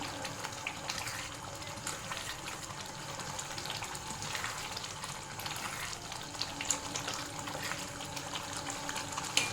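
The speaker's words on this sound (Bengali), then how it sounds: "এবারে দিয়ে দেবো আমি অল্প ক্রিম। হালকা করে নাড়িয়ে নেব।" Cream being stirred into palak paneer in a pan, a soft continuous bubbling sizzle with faint scraping at low volume, no talk.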